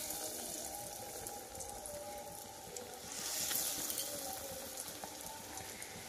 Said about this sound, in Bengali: এখানে আমার তেল গরম হয়ে গেছে, আর আমি এক এক করে দিয়ে দিচ্ছি